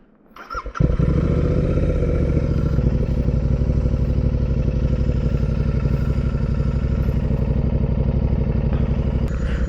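A motorcycle engine starts with a brief clatter, then settles into a steady, loud, close-up running drone that continues for the rest of the clip with a slightly uneven pulse.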